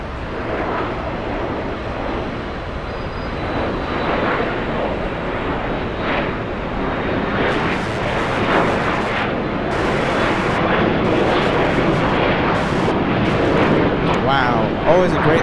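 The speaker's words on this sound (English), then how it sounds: "A couple of Dreamliners." Boeing 787 Dreamliner jets at Los Angeles International Airport, a loud, continuous broadband engine roar that builds steadily, heard from a plane-spotting vantage point.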